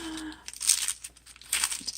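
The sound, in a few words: crinkling of old paper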